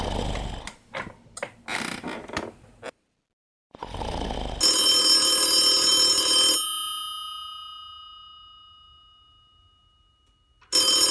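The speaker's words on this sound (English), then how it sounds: "Phone." A telephone rings out loud and close, a sustained electronic ring that fades away, with a second ring starting at the end, after some earlier knocking and handling noises.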